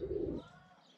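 A pigeon gives a single short, low coo close by, followed by a fading tail of softer sound.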